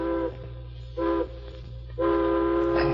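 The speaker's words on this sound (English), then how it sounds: "the next morning, a distant train whistle wakened me" A distant steam train whistle, staged as a radio drama effect in an old western, sounds in three sustained blasts, two shorter and one long, over a steady low rumble, with no voices.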